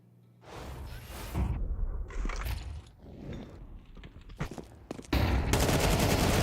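Rapid gunfire in a Counter-Strike match on the Mirage map: repeated loud shots with mechanical clatter throughout, ending in a sustained heavy burst.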